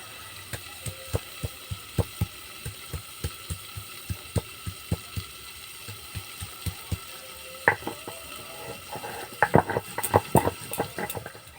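Pieces of ginger ground on a stone for a Bengali spice paste, a steady series of sharp, close knocks and scrapes in regular rhythm, growing busier and louder toward the end.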